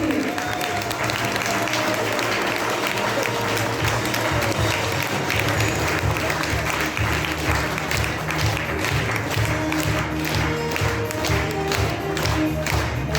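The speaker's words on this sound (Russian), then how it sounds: "Похлопаем, товарищи!" Sustained, loud clapping from a hall audience at an award ceremony honoring a climber's Everest ascent, dense and continuous throughout, with a few voices mixed in.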